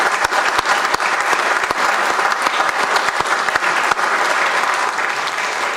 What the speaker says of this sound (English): How about a round of applause for our mayor and council?